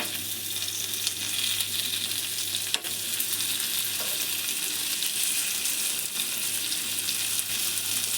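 Prawns frying in coconut oil give a steady, close sizzle with a continuous bright crackle throughout, plus one or two faint clinks of a utensil near the middle. No one speaks.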